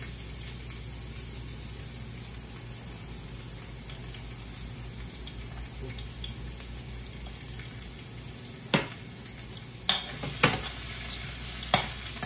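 Garlic sizzles softly in olive oil in a pan, a steady crackling hiss broken near the end by a few sharp utensil clinks from stirring.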